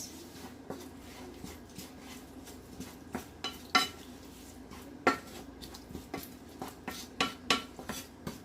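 Spicy sauce is stirred in a pan, with quiet clinks and scrapes of a utensil against metal coming in an uneven rhythm over a low background.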